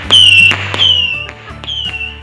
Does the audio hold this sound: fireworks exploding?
yes